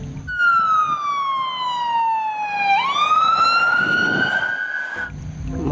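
A toy police car's electronic siren sweeps steadily downward in pitch, then jumps and rises again, loud and close, a single wailing cycle lasting about five seconds with no talking over it.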